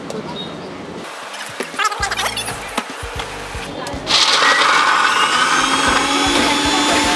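Almonds and sugar grinding in a blender for badam milk, a low rough churning in the first seconds that jumps to a loud, steady high-pitched motor whine partway through, close by and with no talking.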